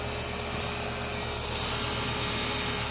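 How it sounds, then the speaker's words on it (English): A 1994 Bryant heat pump with a reciprocating compressor runs in heat mode, giving a steady, continuous droning hum with a faint tonal whine, unbroken for the whole stretch and with no talk. "that's a heat pump that's running in heat mode."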